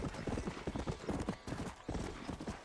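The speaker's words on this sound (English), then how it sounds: "We found the war horse, boys!" Hooves of a war horse clip-clop steadily in Red Dead Redemption: Undead Nightmare, a quick continuous patter of hoofbeats at moderate loudness, with no talk over it.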